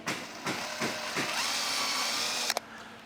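A power drill whirs in short bursts and then a longer sustained run, driving screws into pre-drilled holes to join sliding operable wall panels, close up with a couple of sharp clicks near the end.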